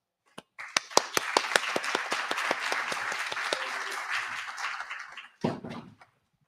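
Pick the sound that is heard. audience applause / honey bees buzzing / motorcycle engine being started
audience applause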